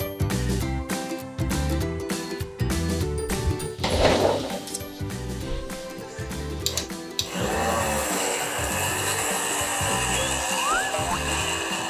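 Leaves and rubbing alcohol churn in a blender, with a loud, steady whirring motor that grinds and shifts in tone partway through, heard up close and alone.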